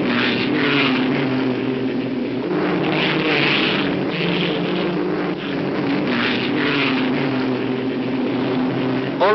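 A pack of 1958 Formula One cars blasts through the fast, sweeping bends at Spa-Francorchamps on the opening lap of the European Grand Prix, a loud, sustained engine roar rising and falling as the field passes.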